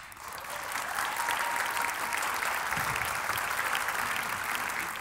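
A studio audience at a talk show claps. The applause swells within the first second, then holds as a steady, full burst of clapping.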